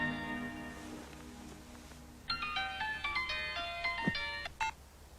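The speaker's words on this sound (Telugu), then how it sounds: "ఫోన్." A telephone rings in a Telugu action drama film: after about two seconds of low, quiet ambience, a bright electronic melodic ringtone plays a quick run of notes for a couple of seconds, then stops.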